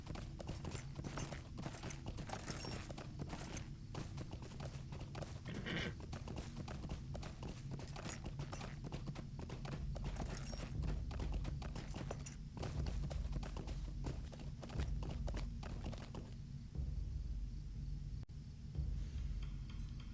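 Horse hooves clip-clop in a steady, even rhythm in the video game LOTRO, the footfalls close and continuous over a low background hum, with no talking.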